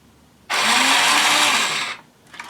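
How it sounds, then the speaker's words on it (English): A small electric motor from a RAD 2.0 robot runs on 6 volts in a loud, steady, close whir for about a second and a half, starting abruptly and then winding down, with a brief faint tail afterward. "This motor, I'm going to put 6 volts onto this motor,"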